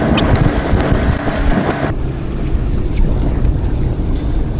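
A Sea-Doo GTR 230 jet ski engine runs steadily and loud and close, its low broadband roar mixed with wind buffeting, with no talk over it.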